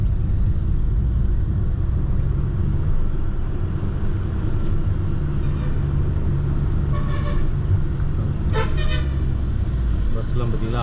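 Vehicles rumble along a hill road between Kotagiri and Mettupalayam, with a few short horn toots near the end over steady engine and road noise while a person talks.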